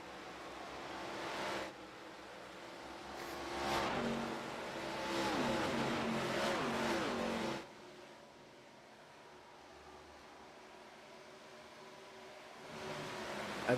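Race cars in an ARCA Series video game race at Auto Club roar past, with engine noise swelling and fading as cars pass and revs rise and fall.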